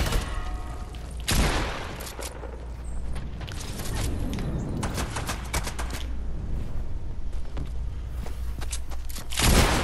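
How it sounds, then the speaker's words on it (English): Video game shotgun fire comes as heavy blasts amid a busy, noisy mix of rapid impacts and clatter, with several loud bursts spread across the stretch and no clear talk. "I'm gonna shotgun."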